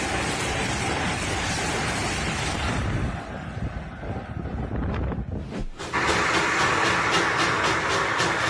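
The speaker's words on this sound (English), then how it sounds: "On the High Line, a mixed train rolls past, led by locomotive 480" A mixed train hauled by locomotive 480 rolls past on the Durango and Silverton High Line during a fall photo special, a steady loud rumble with wind buffeting the microphone, dipping briefly midway before surging back.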